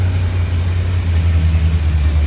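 A 1974 Dodge Monaco's engine idles in an enclosed space, a loud, steady low rumble with a smooth even drone held throughout the short stretch, close to the car with no voices.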